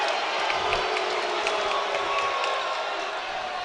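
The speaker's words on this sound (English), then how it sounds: "Crowd wants a foul." A basketball crowd at a college conference championship game shouts and jeers in a sustained roar, calling for a foul, with scattered whoops and claps in the mix.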